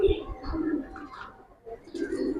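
Giribaz pigeons cooing in a loft, several low throaty coos repeating close by, with a voice talking faintly in the background.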